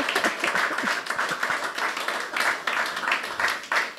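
A church congregation applauding during worship, a dense close burst of many hands clapping that continues steadily throughout.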